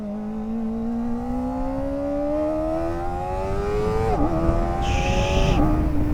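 A Kawasaki ZX-4RR sport motorcycle engine revs up loudly and steadily with rising pitch, briefly dropping at a gear shift before climbing again, close and continuous without speech.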